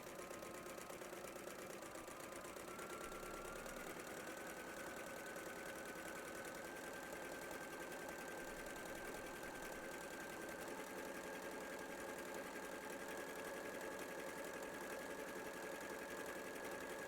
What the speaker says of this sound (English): Trust the pin tucking foot to just take the piping and sew it to the binding.